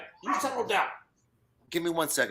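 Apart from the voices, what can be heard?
small dogs barking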